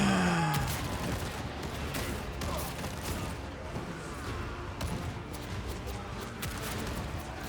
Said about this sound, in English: the shotguns are brutal